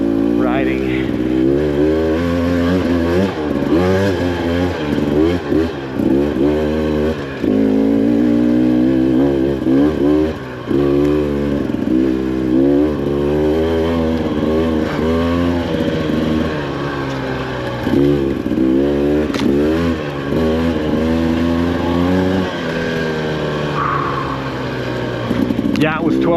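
Husqvarna TE300 Pro two-stroke dirt bike ridden on a mountain trail with light snow, its engine revving up and down in rapid surges throughout, loud and close.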